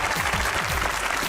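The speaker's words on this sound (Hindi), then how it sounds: "तालियां" Studio audience of a Pakistani comedy talk show applauds going into a break: a brief, loud burst of dense clapping with a faint musical or vocal undertone beneath it.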